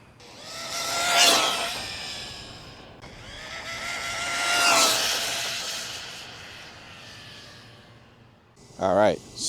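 A UDIRC 1610 Pro RC monster truck speeds past twice, its high electric motor whine swelling as it approaches and fading as it leaves, ending with a brief nearby whirring burst.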